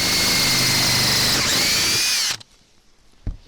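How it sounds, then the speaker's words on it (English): A loud, high-pitched power drill with a step drill bit whines steadily as it bites through metal on a van, then cuts off abruptly, leaving a quiet room and a single thump. "I'm going to be using a step drill bit to make this a larger hole"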